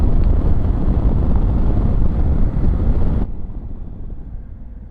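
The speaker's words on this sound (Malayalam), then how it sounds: "തണുത്ത കാറ്റ് വരാൻ തുടങ്ങിയിരിക്കുന്ന." Strong wind roar buffets the microphone during a motorcycle ride on a Honda Africa Twin or Ducati Multistrada V4S toward Al Qudra, loud and steady before dropping sharply to a quieter rumble near the end.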